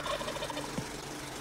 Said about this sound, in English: The wild turkey is a curious bird.